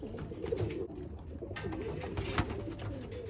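Racing pigeons and Birmingham roller pigeons cooing in a loft, soft repeated low coos overlapping at moderate distance over a steady background hum, with no talking.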